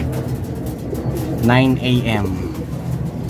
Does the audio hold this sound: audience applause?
no